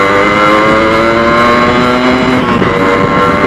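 A Yamaha RX-100 two-stroke motorcycle, modified with a longer wheelbase, runs at a steady 60–70 km/h with a loud, close, buzzing engine note that holds nearly constant, with wind noise and no talking.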